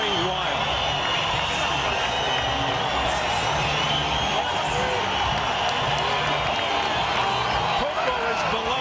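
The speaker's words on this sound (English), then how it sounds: "Crowd going wild." Loud, sustained crowd roar and cheering fills an arena during a 2003 boxing fight between Acelino Popó Freitas and Jorge La Hiena Barrios, a dense continuous wash of voices with scattered shouts.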